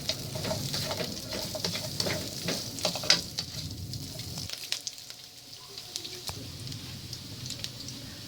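Pork fries in a pan with a steady, close sizzle and crackle, punctuated by scraping stirs, the hiss dropping briefly midway before resuming, with no speech.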